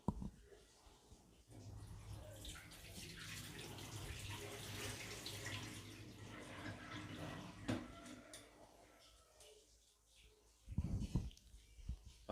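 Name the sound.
pouring out water after washing rice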